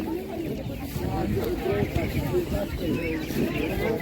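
Chickens cluck and squawk repeatedly amid a busy crowd at a livestock market, with people talking throughout and general market bustle in the background.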